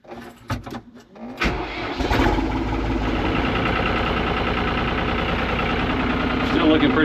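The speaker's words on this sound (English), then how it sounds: "see if we can't get this tractor warmed up" A farm tractor's engine cranks with a few rough bursts, catches, and settles into a loud, steady idle while it warms up, with a low rumble and knock close by; speech is heard under it.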